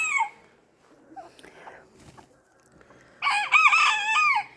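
Scattered soft clucks from bantam hens, then a loud, close bantam rooster crow rings out near the end.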